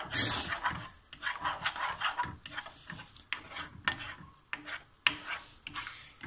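Eggs being stirred in a pan for breakfast, with soft scraping and tapping of a utensil against the pan in irregular strokes and a faint sizzle underneath, fairly quiet and close.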